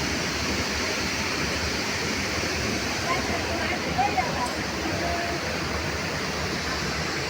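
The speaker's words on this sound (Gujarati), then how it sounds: "સરસ મજાનો ધોધ પડી રહ્યો છે" Waterfall at the Khodiyar temple in Galdhara, a steady, loud, broad rush of falling water that fills the whole clip, with voices faintly present beneath it.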